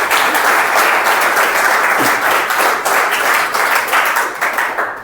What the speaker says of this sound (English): I heard the clap and it's low for me